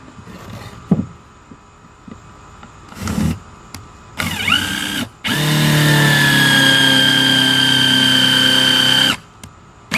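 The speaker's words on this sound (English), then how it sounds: "now that you've countersunk your holes right here" A power drill countersinks screw holes in 2x2 lumber for a DIY barstool, with a few short bursts and then a long, steady, loud whine of several seconds that stops abruptly, close by with no talking.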